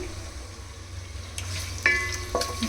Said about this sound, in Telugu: చూడండి ఫ్రెండ్స్, ఆయిల్ అయితే వేడెక్కిపోయింది. నేను హోల్ గరం మసాలా వేసేసుకుంటున్నాను